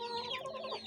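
An aseel chicken gives a short, close burst of clucking, alone and moderately quiet.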